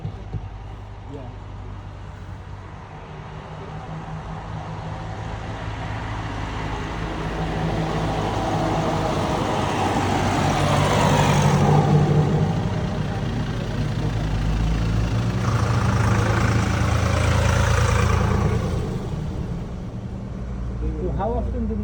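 Tractors at a tractor run in Scotland give a low, steady engine rumble throughout, idling and swelling slightly, with people chatting over it.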